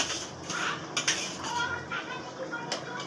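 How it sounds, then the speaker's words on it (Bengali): Bhetki fish goes into boiling gravy for East Bengal tel chochhori in a cooking pot. A metal utensil clinks and scrapes against the pot several times over a constant bubbling, sizzling background. "ঝোলটা ফুটে উঠেছে, এবার আমি মাছগুলো এর মধ্যে দিয়ে দিচ্ছি।"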